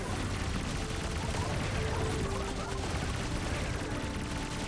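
Asteroids blow up in a space combat video game, a dense, continuous wash of crackling explosion and gunfire-like bursts filling the whole stretch with steady loud noise and faint tonal game effects.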